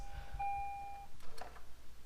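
A single electronic door chime tone from a 2017 Lexus IS350 rings steadily for about a second, followed by a few soft clicks and a brief low rumble.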